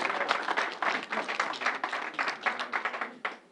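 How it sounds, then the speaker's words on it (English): A church congregation at Mount Neboh Baptist Church claps for visiting ministers, a moderate burst of applause that swells and pulses in waves before tapering off near the end. "Can we give them a round of applause?"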